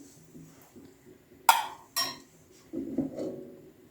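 A spoon stirring pearl barley soup in a pot, with two sharp metallic clinks against the rim followed by softer scraping and sloshing, close and quiet.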